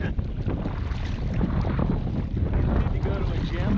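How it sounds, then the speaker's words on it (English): Strong wind buffets the microphone while kayak fishing at sea off Avila Beach, California, a loud continuous rumbling roar with water sloshing beneath. "Well, it's gotten even windier."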